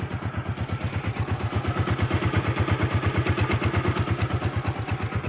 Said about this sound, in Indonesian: Bisa dengar mesinnya.